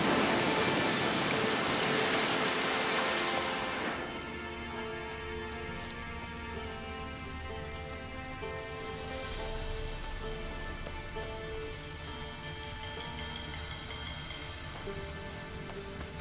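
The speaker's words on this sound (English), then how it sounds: "Looks like rain." Rain pours in The Witcher 3 as a dense, loud hiss for about four seconds. It then drops to a softer steady patter beneath sustained musical tones for the rest of the scene.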